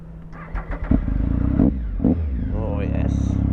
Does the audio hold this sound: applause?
no